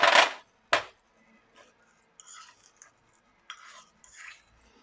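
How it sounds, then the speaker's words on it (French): A utensil stirs tuna rillettes with lime zest in a bowl, giving two sharp clinks at the start followed by soft, intermittent scraping and clicking strokes, close and quiet with no talk. "Voilà, on va bien mélanger."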